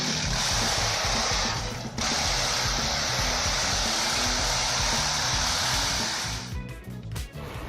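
A Volvo 2654 wood chipper runs with a loud, dense, hissing roar, briefly interrupted once, then cutting off near the end into quieter rumbling.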